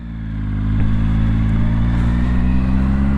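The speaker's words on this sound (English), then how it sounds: "it's got the nice intake noise just like you'd expect from a 3-cylinder" Triumph Speed Triple three-cylinder motorcycle engine revving up close, a steady deep drone that swells in loudness and holds, with a strong intake growl.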